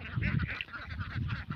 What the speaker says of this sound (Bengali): দেখুন হাঁসটা মাঠে তুলে দেওয়ার পর অল্প কিছু জায়গার ভিতর গোল হয়ে খাচ্ছে